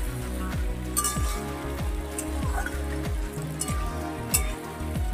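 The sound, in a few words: frying arum root (kochu) in a pan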